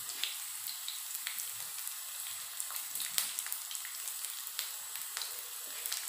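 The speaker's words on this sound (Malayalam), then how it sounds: "നമുക്കതിലേക്ക് ഒരു ചുവന്നുള്ളി വറുത്ത് കൊടുക്കാം." A small shallot fries in hot oil with popped mustard seeds for a mango curry, giving a steady, close crackling sizzle dotted with sharp little pops, with no talking.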